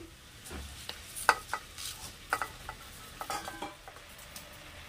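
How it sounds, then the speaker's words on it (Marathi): Washed rice grains are sautéed in a pressure cooker with light scraping and soft crackles, irregular utensil strokes over a faint sizzle, close and fairly quiet. "हे तांदूळ सुद्धा आपण असे अलगद असे परतून घ्यायचे"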